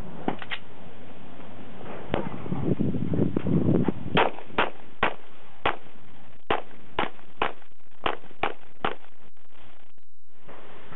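Glock 19 pistol fired repeatedly at a range, about a dozen sharp cracks in an irregular fast sequence, loud and close, after a brief stretch of muffled activity.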